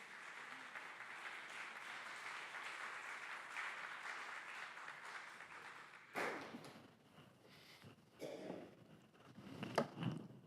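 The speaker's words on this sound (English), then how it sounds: "I hope you will all give Freeman a round of applause as he comes to the stage" A congregation at a Sunday service claps for several seconds as a speaker comes to the stage; the applause is fairly quiet and far off, then fades into scattered taps and footsteps.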